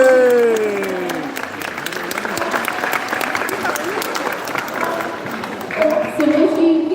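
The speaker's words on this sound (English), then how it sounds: "give him a round of applause" An audience claps and cheers after a sea lion demonstration. The applause swells and holds steady, with a presenter's voice heard briefly at the start and end.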